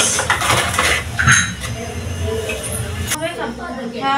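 Two spoonfuls of Horlicks scooped into a mug, with light metallic clinks and scrapes of the spoon against the jar and mug, close by, under a voice talking throughout.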